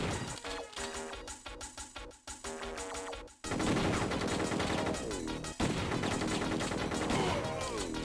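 Shotgun fire and explosive crashes in a 3D cover shooter game on the Game Boy Advance, loud bursts over busy game music, with a heavy blast cutting in midway and another near the end.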